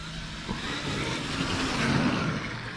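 Small RC car motor revving hard as it speeds up for a ramp jump, a steady buzzing whine that swells slightly toward the end, close and loud with no talk.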